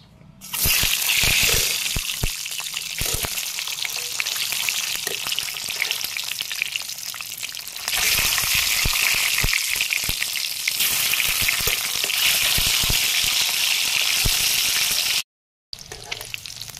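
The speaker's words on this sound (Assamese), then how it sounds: "এতিয়া এই কেৰাহীখনতে মই ভাতকেৰেলা আলুখিনি ভাজি লওঁ।" Sliced bitter gourd and potatoes frying in hot oil in a wok, a loud, dense, continuous sizzle with stirring scrapes. It drops briefly to silence near the end, then resumes.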